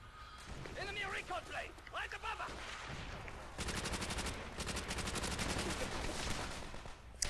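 Call of Duty: World at War multiplayer gunfire erupts in rapid, sustained automatic bursts after a stretch of talking, loud and dense until the end.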